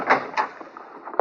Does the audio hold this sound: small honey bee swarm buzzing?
no